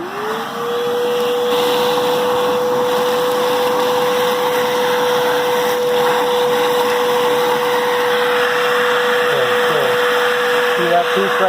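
A vacuum sucks up dirt and gravel during a gold metal-detecting dig, its motor a loud, steady, high whine held for the whole stretch, with small rattles of debris near the end.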